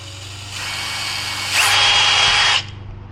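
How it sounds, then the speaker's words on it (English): Power drill boring a hole during a modification on a new Jeep Wrangler, a close, loud motor whine that starts, then rises to a higher, harsher pitch as the bit cuts through before stopping abruptly. "Drills through really easy."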